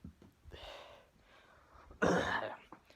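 A single person's cough, one sharp burst heard close up after some quieter throat noises.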